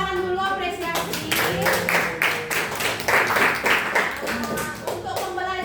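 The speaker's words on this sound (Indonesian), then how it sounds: "Sekarang kita tepuk tangan dulu apresiasi." A classroom of students claps together in a burst of sharp, fairly quick hand claps that lasts a few seconds, with voices and chatter mixed in before and after.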